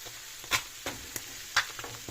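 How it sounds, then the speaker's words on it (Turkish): Grated kasar cheese pushed around a pan with a wooden spoon, a few soft scraping strokes with faint sizzling between them, heard close up with no talk. "Şimdi tahta kaşık yardımıyla bunları yayıyoruz."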